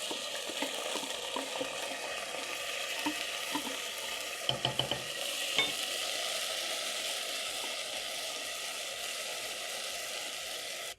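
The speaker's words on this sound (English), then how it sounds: "Toast your rice for around a minute, and this is going to add in a nice smoky flavor to the rice" Drained rice toasting in a pot with whole spices, a steady dry sizzle broken by a few scraping stirs midway, then settling back into an even hiss with no voices.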